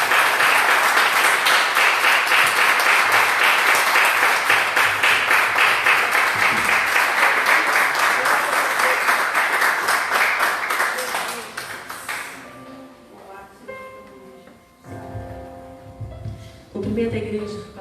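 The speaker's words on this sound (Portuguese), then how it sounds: "Uma salva de palmas para Jesus." Church congregation at a worship service applauding loudly and steadily for about twelve seconds, the clapping then fading out as faint organ or keyboard notes continue underneath.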